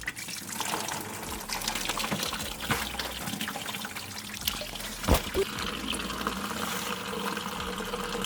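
Pink coolant gushing from a car's pressurized cooling system on a TSX during a thermostat replacement, a steady close-up liquid trickle and pour with a brief hiss-like burst midway, no talk.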